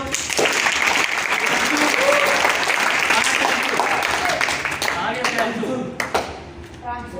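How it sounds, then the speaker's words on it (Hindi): Classroom applause on a computer literacy day, many students clapping together in a dense, steady patter that holds for several seconds and thins slightly near the end, with voices mixed in. "ताली बजा दो।"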